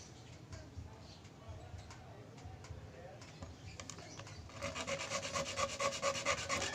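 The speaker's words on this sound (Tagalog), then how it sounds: "Kailangan natin lihain yung mga dulo para magpantay." Steady rubbing and rasping of sandpaper strokes smoothing the ends of a tripod during repair, growing louder and quicker toward the end, close by with no talking.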